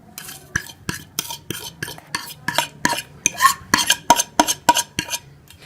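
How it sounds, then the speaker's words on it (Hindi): Spoon stirring spices such as red chilli powder, salt and turmeric into yogurt for Kashmiri dum aloo gives a steady run of close, sharp scrapes and taps against the bowl, about three per second, with no one talking. "इन सारे मसालों को भी जो है वो दही में अच्छी तरह से मिक्स कर लेंगे"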